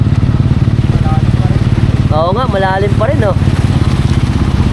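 Motorcycles idle and ride through deep floodwater in Malolos after Typhoon Carina, a steady loud engine chug throughout while people talk nearby.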